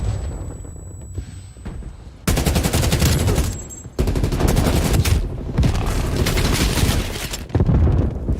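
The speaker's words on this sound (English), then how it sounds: "Enemy sniper working." Enemy sniper gunfire in a video game arrives as dense, loud volleys of rapid shots and booming bursts, broken by brief lulls, with no talking.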